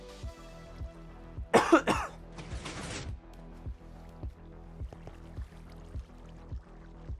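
A brief burst of coughing and throat clearing, fairly close, over a steady repeating background beat that continues throughout.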